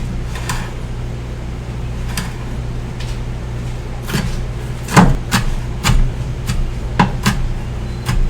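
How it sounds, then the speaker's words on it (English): A knife slicing small baby cherry tomatoes on a board, a series of soft, irregular taps that get firmer near the end, over a steady low kitchen hum and without talk. "we take a baby cherry tomato and slice it into small pieces"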